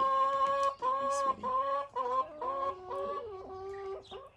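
A hen named Barbie clucks close by in a string of tonal, drawn-out calls broken by short pauses, fairly loud with no one speaking.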